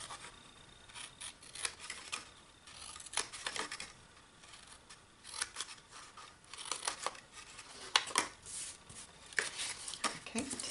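Scissors snip through paper along score lines while cutting out a trick-or-treat bag, a run of quick, crisp, irregular cuts with faint rustling in between, close by.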